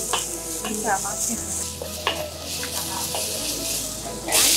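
Garlic and onion fry in a pan while being stirred, a constant loud sizzle layered with repeated scraping and tapping strokes of the spoon, plus a brief burst of hiss near the end.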